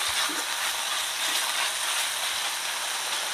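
Water lily stems frying with turmeric in a pan in a village kitchen: a steady, close, loud hissing sizzle that runs unbroken from start to finish with no talk over it.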